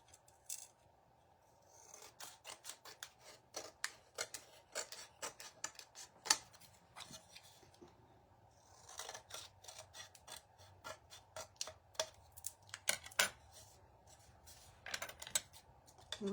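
Excess material being cut away, heard as quiet, irregular snips and light scraping up close in a hushed room.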